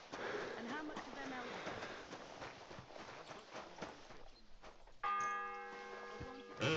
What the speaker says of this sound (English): The 6th bell. Half the time is up.